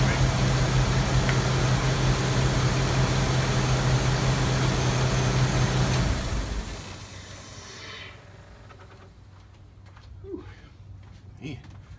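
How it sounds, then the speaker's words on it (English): A noisy Chevrolet S10 pickup engine idles with a steady low rumble for about six seconds, then shuts off and leaves near silence with a few faint outdoor sounds. "Let me turn off this noisy engine real quick."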